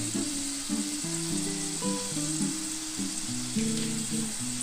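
Tomatoes with turmeric fry in a pan, with a steady sizzle running throughout at moderate level and occasional soft stirring, and no talk.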